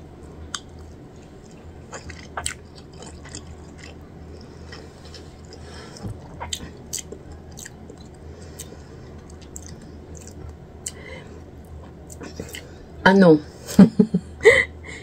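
Someone chews a Bicolano-style home-cooked dish while tasting it, with soft, close mouth and chewing sounds throughout and a short burst of louder vocal sounds near the end.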